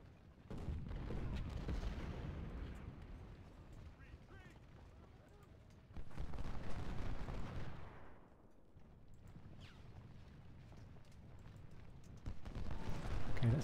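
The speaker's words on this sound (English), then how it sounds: "How can these cannons be defending so well?" Cannon artillery in a Civil War battle game fires in repeated heavy booms and rumbling volleys that swell and fade in waves, mixed with distant gunfire, with someone talking over it.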